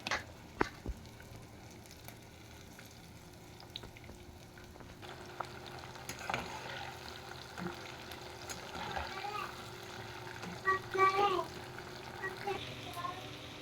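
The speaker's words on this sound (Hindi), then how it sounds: "अब हम इनको फ्राई कर लेंगे।" Chicken pakoras deep-frying in hot oil give a soft, continuous sizzle with brief crackles, fairly faint, as someone talks over it.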